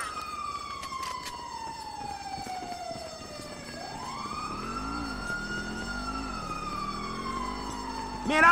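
A wailing ambulance siren in the video game GTA V sweeps down and then rises into a repeating up-and-down wail, steady and fairly loud throughout with no speech over it.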